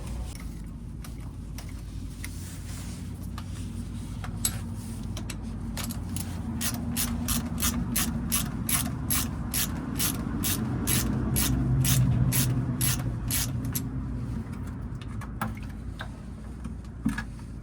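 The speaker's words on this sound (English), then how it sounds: "I'm gonna start unscrewing this one to let it air in." Ratchet wrench clicking rapidly in a steady run as it loosens a plug on an Eaton Endurant HD automated transmission of a Kenworth truck during an oil change, close and clear over a low background rumble.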